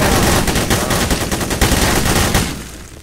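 Rapid video game gunfire, loud bursts of automatic shots in quick succession that fill most of the clip before tapering off near the end.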